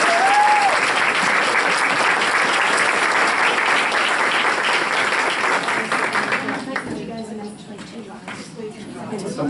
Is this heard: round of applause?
yes